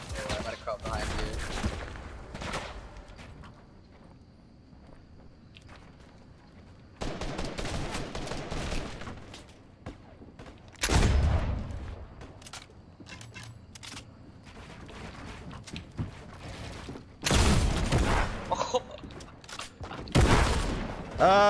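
Bursts of video game gunfire crack out in several loud clusters separated by quieter stretches, with players talking over the action.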